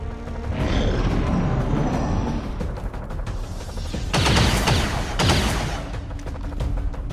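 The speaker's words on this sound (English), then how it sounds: "I'm under fire! Taking heavy fire!" Gunfire and explosions in the XCOM 2: War of the Chosen video game, rattling volleys of shots with booming impacts and two loud, broad bursts near the end, close and intense.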